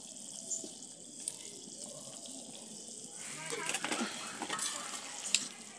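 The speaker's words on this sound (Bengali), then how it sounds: "কতগুলো কাঁচামরিচ দিয়ে দিচ্ছি।" Green chilies go into a sizzling cauliflower and pabda fish curry in a pan, a soft steady frying hiss with spoon stirring and scraping clinks growing busier, close by, with no talk over it.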